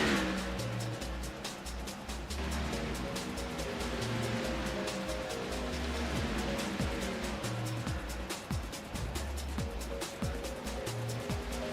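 Race cars in the Second Life video game zoom past one after another, engines whining and revving in a continuous stream of high-speed pass-bys, with no talking.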